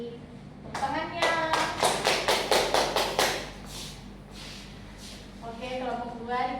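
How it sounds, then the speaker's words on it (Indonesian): Children in a classroom give a short round of applause after a group presentation, a quick rhythmic run of close claps, with young voices talking before and after. "Terima kasih. Tepuk tangannya."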